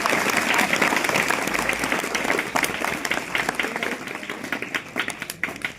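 Students and guests at a school Constitution Day celebration in a village applaud the school principal, a dense burst of clapping that gradually thins into scattered individual claps near the end.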